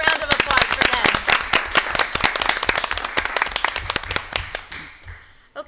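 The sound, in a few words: audience applause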